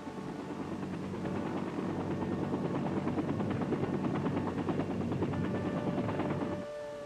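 Helicopters airlift troops to a village during the Vietnam War, their rotors producing a steady rhythmic thudding drone that swells and holds for several seconds before dropping away near the end.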